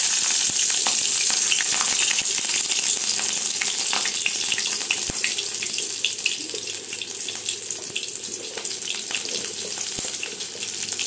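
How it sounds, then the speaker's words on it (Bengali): Slit green chillies tempered in hot oil for a light catla fish jhol give off a steady, fairly loud hiss and crackle of frying that runs unbroken for the whole stretch, with no talking. "এবারে আমি তেলের মধ্যে চেরা কাঁচা লঙ্কাগুলো ফোড়ন দিয়ে দেব।"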